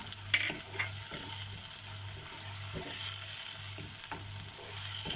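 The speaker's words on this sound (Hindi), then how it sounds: "अब इसको फ्राई करेंगे जब तक ये टमाटो सॉफ्ट ना हो जाए।" Small chopped tomato frying in a pan for palak paneer, a continuous close sizzle with a low rhythmic scraping undertone and occasional soft clicks, steady throughout with no voices.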